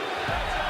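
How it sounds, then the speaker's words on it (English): Wrestling crowd at a live pro wrestling show, a dense roar of many voices swelling into a loud sustained chant that fills the arena from start to finish. "I got the chant started."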